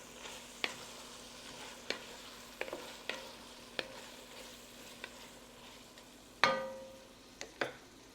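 Garlic and green onion cook in a pot with a faint steady sizzle, broken by sharp clinks and taps of a utensil and a louder clatter near the end, probably a lid going on.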